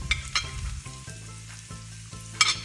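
Chopped carrots fry with garlic and chicken for Sri Lankan fried rice, a soft sizzle under a low hum, punctuated by a few sharp metallic clinks and scrapes from stirring.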